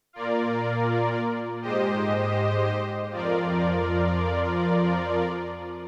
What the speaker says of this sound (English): let's choose this saw pad, which sounds like this